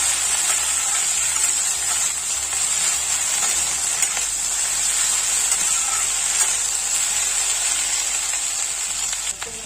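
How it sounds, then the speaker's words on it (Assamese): Okra frying in a pan for a home-style Assamese meal, giving a steady, loud sizzle with faint stirring scrapes throughout and no talking. "এইফালে ভেন্দিখিনি ভাজি আছোঁ"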